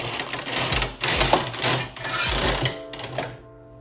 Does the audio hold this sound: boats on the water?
no